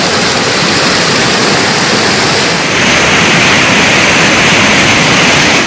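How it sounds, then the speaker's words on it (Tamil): Kovai Courtallam waterfall in flood after continuous rain, a loud, dense and unbroken roar of rushing water that holds steady throughout. "இதனிடையே தொடர் மழையால் கோவை குற்றாலம் அருவியிலும் வெள்ளப்பெருக்கு ஏற்பட்டுள்ளது."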